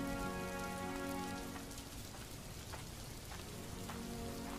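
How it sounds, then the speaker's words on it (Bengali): Heavy cartoon rain pours steadily in a dense, even hiss, with drops spattering on surfaces and a tonal music bed fading out early on, no voices. "এত বৃষ্টি আমি আমার জীবনে দেখিনি গো"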